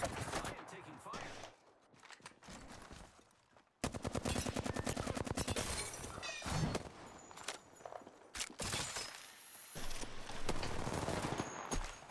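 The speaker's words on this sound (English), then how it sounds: "I am taking fire." Rapid automatic gunfire in the Apex Legends video game, with repeated bursts and fusillades that stop and restart across the clip, loud and close, with a short break and voices speaking at times.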